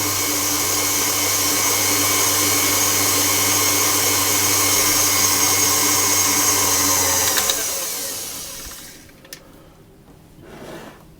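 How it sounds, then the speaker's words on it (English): An electric mixer whirs loudly and steadily, blending lemon juice into lemon and poppy seed cake batter, then winds down and stops, leaving faint clatter behind. "I'm going to put my lemon juice in and just mix that around."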